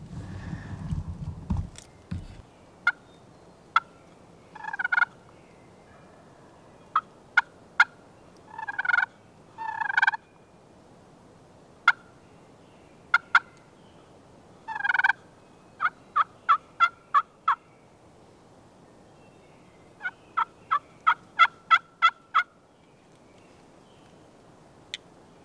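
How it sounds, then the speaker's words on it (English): Wild turkeys gobble repeatedly in snowy New York woods on a windless night, bursts of loud gobbling scattered near and far over a quiet background, with a brief low rumble at the start. "there's birds gobbling"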